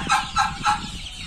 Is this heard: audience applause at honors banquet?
no